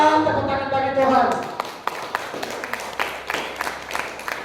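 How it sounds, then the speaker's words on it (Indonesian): Church congregation clapping their hands during a worship service, a dense burst of claps under lingering voices that thins into scattered separate claps. "Tepuk tangan bagi Tuhan."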